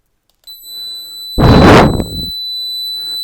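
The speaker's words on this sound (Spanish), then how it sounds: "ya vemos que nos ha saltado la alarma y podemos silenciar el zumbador" Alarm buzzer on an AXHUB alarm control panel sounds as a loud, harsh broadband burst of about a second, followed by faint steady beeping tones, with no talking.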